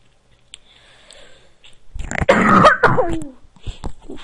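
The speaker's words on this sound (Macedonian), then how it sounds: "Добро, сега повторно ќе се искашлам." A few short coughs and a rough throat clearing, close and fairly loud, after a quieter stretch with faint background noise.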